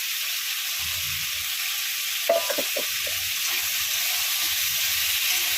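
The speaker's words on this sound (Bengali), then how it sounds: "এবার সবজিগুলো একটু ভালো করে ভেজে নেবো।" Vegetables frying in a pan with mustard paste, a constant loud hiss of sizzling oil with a few brief scrapes and clinks of stirring partway through.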